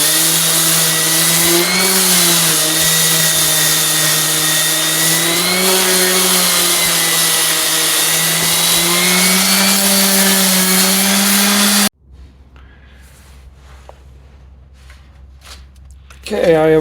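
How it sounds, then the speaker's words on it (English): An orbital sander grinds rust off a John Deere 60 clutch plate, a loud steady whine with a wavering pitch that runs without a break, then cuts off abruptly, leaving a quiet low hum and faint clatter before a sharp rise at the end. "I had to get something a little bit more aggressive, just a orbital sander, see if that'll clean it up a little bit better"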